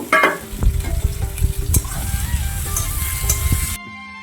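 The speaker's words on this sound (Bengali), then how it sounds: "এবার আমি পেঁয়াজ কুচিটা দিয়ে দিচ্ছি তো মিডিয়াম আছে পেঁয়াজটা আমি ভেজে নেব" Chopped onion sizzles steadily in a hot pan over medium heat, a dense crackling fry broken by a few stirring scrapes and clinks, loud and close, then cutting off abruptly near the end.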